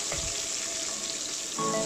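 Onions sauté in hot oil, a steady hiss of frying filling the clip, continuous sizzling with a brief louder crackle near the end.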